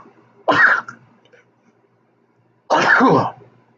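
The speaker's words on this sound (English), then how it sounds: "Sneeze coming." Two short, sharp bursts from a person, spaced about two seconds apart, close and loud against near silence: a sneezing or coughing fit with no talk around it.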